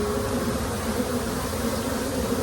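A steady, dense buzzing hum of many honeybees flying around a backyard hive, close and continuous without a break.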